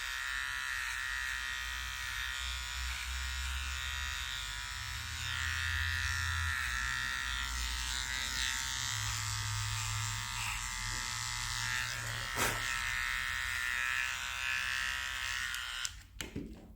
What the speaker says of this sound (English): we'll just shave the top of the large paw pad here